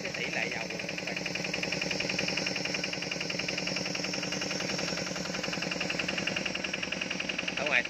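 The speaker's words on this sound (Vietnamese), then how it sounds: "Trên bồn dầu thì trên ghe dầu thì có mỗi trang bị một cái máy dầu được liên kết với một cái bơm dầu đó các bạn" A diesel engine aboard a fuel barge, driving the fuel pump, runs in a steady, dense mechanical chatter with rapid even pulsing, loud and close, holding constant throughout.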